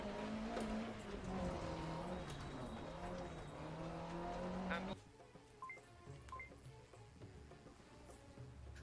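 Car engine roar from a racing video game played in VR on a Pimax 8K headset: a loud, steady engine drone that drops sharply about halfway through, leaving quieter in-game sounds and faint tones.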